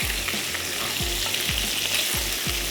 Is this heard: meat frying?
yes